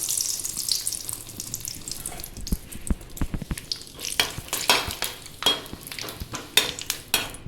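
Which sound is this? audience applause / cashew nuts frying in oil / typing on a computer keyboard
cashew nuts frying in oil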